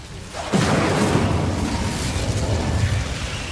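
An Incendio fire spell cast in the video game Hogwarts Legacy bursts in with a sudden loud whoosh, then a sustained roaring, crackling rush of flame that carries on to the end.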